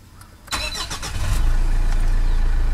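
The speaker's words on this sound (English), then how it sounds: "Fires right up." A 2012 Mitsubishi Montero Sport 4x2 GLS-V cranks briefly and catches, settling into a loud, steady idle close by, with no voices.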